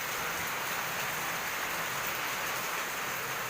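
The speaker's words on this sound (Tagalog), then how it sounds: "Grabe ang ulan." Heavy rain pours down in a dense, loud, constant hiss with no pauses and no voices.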